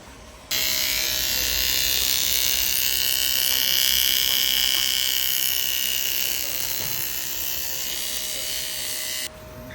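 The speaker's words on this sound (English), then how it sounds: "let's check out this welding. See how he's doing." Welding machine running on an old workbench, a steady loud electrical buzz and hiss that starts abruptly, holds for about nine seconds with slight variation, then cuts off.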